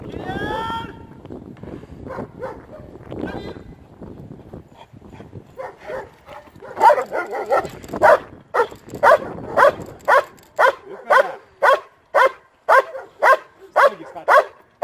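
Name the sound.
dog barking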